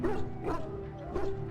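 Dog in the video game Dragon Age: Origins giving soft, whimpering barks and yips, three short bursts over a low steady background drone.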